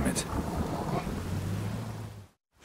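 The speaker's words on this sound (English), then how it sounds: "A storm, damn it." Thunderstorm in The Witcher 3, with a steady wash of rain and a low rumble of thunder throughout, a brief crackle at the start, then cutting to silence near the end.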